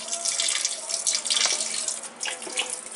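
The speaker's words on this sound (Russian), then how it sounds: "сейчас я наполню бродильню" Filtered tap water pours from a faucet into a fermenter, a steady close splashing gush with bubbling fluctuations and a faint hum, no speech.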